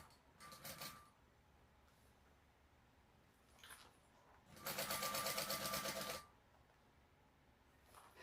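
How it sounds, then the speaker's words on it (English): A sewing machine stitches down a traveler bag pouch in two short bursts, a brief run near the start and a longer, louder steady run in the middle, with quiet pauses between. "Just sew this down now."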